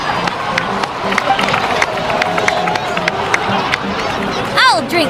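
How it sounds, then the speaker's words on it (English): Video game crowd applause and cheering fill the scene in a steady, busy wash of clapping, with a few whistles rising near the end. "please give another round of applause for them"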